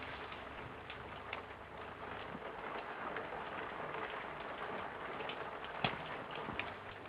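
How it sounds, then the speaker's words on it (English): Steady rain falls in a quiet interior setting, a soft even hiss with scattered drips and a couple of sharper taps, faint and continuous with no talk. "It's only the rain."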